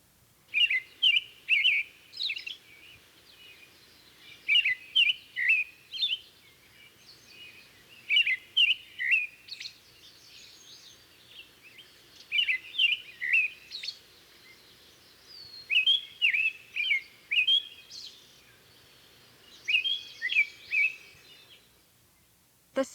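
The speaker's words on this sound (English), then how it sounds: "the robin's clear, cheer up, cheerily phrases" An American robin sings its clear, whistled cheer-up, cheerily song in repeated short bursts of several bright notes, separated by brief pauses, loud and near against a quiet background.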